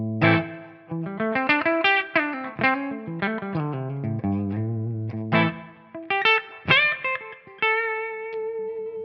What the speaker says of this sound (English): So here I am with my Gibson SG. We'll head back to the clean tones.